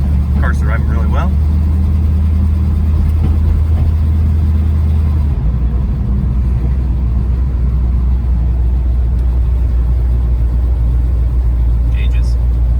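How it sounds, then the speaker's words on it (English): Old car nicknamed the Blue Bomber, newly fitted with a transmission, drives along with a steady low engine rumble and road drone throughout, the pitch shifting midway; someone talks briefly over it. "Car's driving really well."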